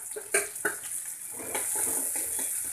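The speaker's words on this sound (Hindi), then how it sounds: "अब हम इसमें कटा हुआ प्याज डालेंगे" Chopped onion goes into a hot pan for palak paneer. A few utensil clicks and stirring knocks come first, then a continuous frying sizzle builds and holds.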